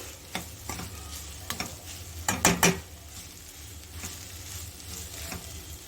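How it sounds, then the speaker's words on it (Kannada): A spoon scrapes and stirs a raw mango rice mixture in a pan of oil on a low flame, with soft sizzling underneath and a quick cluster of clinking scrapes in the middle, close and unhurried. "ಸ್ಟವ್ ಫ್ಲೇಮ್ನ ಸಿಮ್ಮಲ್ಲಿ ಇಟ್ಕೊಂಡು ಇದನ್ನು ಎರಡರಿಂದ ಮೂರು ನಿಮಿಷ ತಳ ಹಿಡಿಯದೆ ಹಾಗೇ ಹೀಗೆ ಮಿಕ್ಸ್ ಮಾಡ್ತಾನೆ ಇರಿ"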